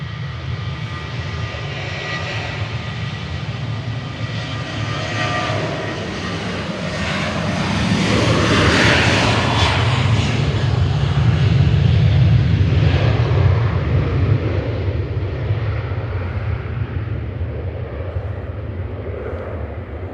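A jet airliner on flight 288 to Agadir departs Manchester Airport, its engine roar swelling to a loud peak in the middle and then easing off slightly, heard alone without speech.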